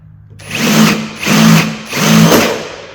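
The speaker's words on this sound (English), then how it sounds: "Nice new sharp drill bit." A power drill with a new, sharp bit whines in three short bursts through metal, each rising and easing off, close and loud with a gritty cutting edge.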